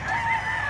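A blackleg rooster crows nearby on a Philippine farm, one drawn-out, strained call heard up close with no talk over it.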